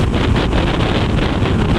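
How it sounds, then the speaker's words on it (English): Strong side wind buffets the rider on a BMW R 1250 RS motorcycle on a Texas road, a loud, steady low roar of wind across the helmet and microphone that gusts slightly without a break. "side wind coming from this, north, hitting me on my left side, pushing me"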